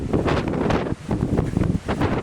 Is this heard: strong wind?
yes